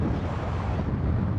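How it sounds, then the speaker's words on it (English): Steady low rumbling buffeting fills the whole stretch, wind battering the microphone while riding a 2024 Harley-Davidson Breakout motorcycle, with no voices. "It is windy today"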